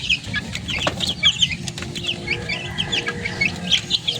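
Backyard chickens, some young with feathers not yet grown in, cluck and chirp repeatedly close by, a busy chatter of short calls over a low steady background hum.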